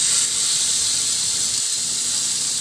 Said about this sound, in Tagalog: At ilagay ko na yung ating tinuhog na o tinusok na chicken breast.